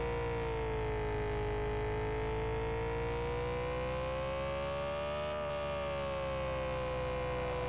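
An ambulance siren in a video game holds a loud, sustained wail that slowly rises and falls in pitch over a continuous vehicle rumble, with one brief dropout near the end.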